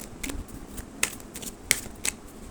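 Tarot cards are shuffled by hand, producing a faint continuous riffling with three or four crisp, sharp card snaps spaced about a second apart, close and without talk.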